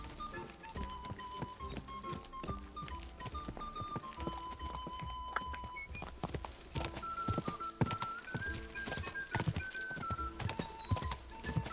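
Continuous rhythmic hoofbeats of a galloping horse in Kingdom Come: Deliverance II, with a steady clip-clop, set against game background music.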